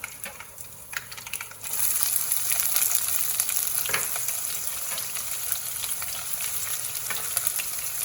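Onion sizzling in hot oil with curry leaves and turmeric for a bitter gourd gravy, a steady close frying hiss that swells louder after a quieter start, with a few scrapes of stirring.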